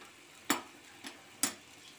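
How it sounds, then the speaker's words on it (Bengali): Potatoes and onions sautéing in a pan with cumin and bay leaf tempering, a faint low sizzle broken by three sharp spoon taps or scrapes against the pan. "জিরে ফোড়ন দিয়ে আলুটা পেঁয়াজটা সুন্দর করে কষিয়ে নিয়েছি।"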